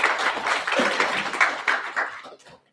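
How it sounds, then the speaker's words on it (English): A brief burst of audience applause at a book launch and discussion, moderately loud clapping from a seated crowd that fades out within about three seconds. "both deserve a big round of applause"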